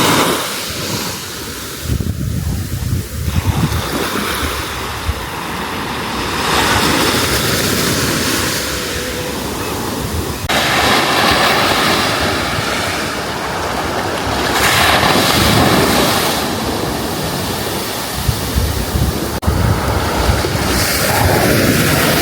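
Ocean waves wash onto a Seychelles beach at sunset, a continuous broad roar of surf that swells and recedes, mixed with gusty wind buffeting the microphone and no talking.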